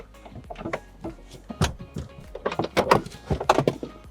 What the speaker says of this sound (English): knock down the seats from the rear or from the front